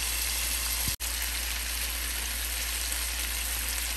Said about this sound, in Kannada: ಇದು ಒಂದು 10 ಮಿನಿಟ್ಸ್ ಈಚ್ ಸೈಡ್ ಫ್ರೈ ಆಗಲಿ.